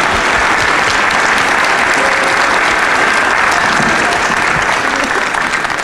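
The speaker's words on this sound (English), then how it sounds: "Let's give all of them a quick round of applause for all that." An audience applauds at a Seattle City Council District 4 candidate forum, producing loud, dense, sustained clapping from many hands that fills the whole stretch without any talking.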